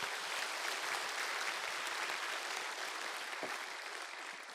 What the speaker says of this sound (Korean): 모든 분들 한번 감사의 박수 한번 드리겠습니다